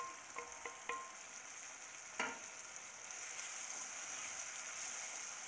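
Chopped medium tomatoes are stirred into a sizzling pan of baingan bharta, a steady close fry hiss broken by a few soft spoon scrapes and clicks against the pan.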